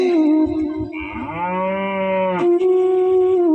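A single loud, drawn-out cow moo rises and falls in pitch, close by and with nothing else around it.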